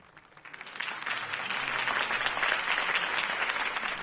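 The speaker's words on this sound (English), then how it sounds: "could have heard that applause" Applause in Batman: The Telltale Series swells from scattered claps into a full, sustained round from a crowd, heard at a slight distance and holding steady to the end.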